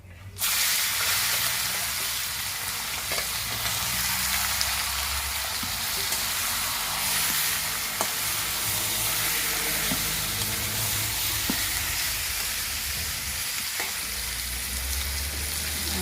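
A fish head and bay leaves frying in hot oil give a loud, continuous sizzling hiss close by, with faint stirring and crackles and no talking.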